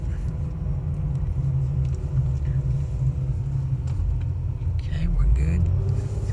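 A failing $1,000 Mercedes car driving sluggishly, a steady low engine and road rumble heard from inside the cabin, continuous and moderately loud with a slight swell near the end.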